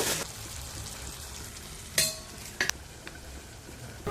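Onions and tomatoes fry with turmeric and chili powder in a pan, a steady close sizzle broken by a few sharp scrapes and taps of a spoon against the metal.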